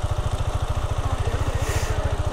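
A KTM off-road motorcycle idles steadily nearby, its low, even engine pulses loud and continuous with no talk over it.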